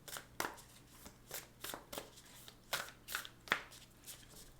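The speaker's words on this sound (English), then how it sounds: "bear with me while we shuffle on camera" A deck of oracle cards shuffled in a steady run of about a dozen crisp, evenly spaced riffles, close and quiet with no voice.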